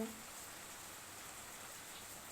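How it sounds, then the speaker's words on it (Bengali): Steady, dense rain hisses continuously across the whole stretch, a broad even wash of falling water with no pauses. "আজকে প্রচুর পরিমাণে বৃষ্টি হচ্ছে"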